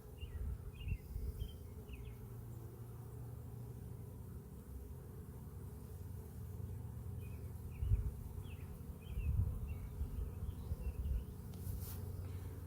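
Faint, steady buzzing of honey bees in a hive of 20,000–30,000, with scattered higher chirps over a low rumbling background, continuous throughout with a couple of slightly louder swells.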